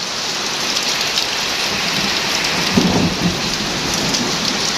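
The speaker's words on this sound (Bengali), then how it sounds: "অবশেষে ফরিদপুর জেলায় বৃষ্টি হচ্ছে" Heavy rain pours steadily in Faridpur, a dense continuous hiss of drops on surfaces, with a low roll of thunder rumbling about midway.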